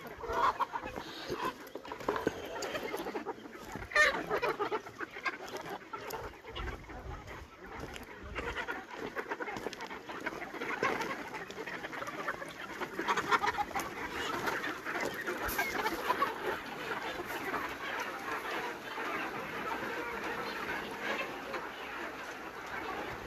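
Chickens cluck steadily at a poultry breeding center, a busy flock heard close and continuous with occasional louder calls, and faint voices in the background.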